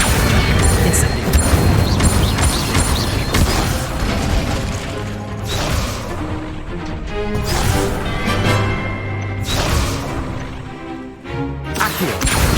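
Incendio and Accio spells cast repeatedly in Hogwarts Legacy on PS5, a loud run of booming bursts, whooshes and crashing impacts with mechanical clatter between them. Casts come in quick succession with brief pauses.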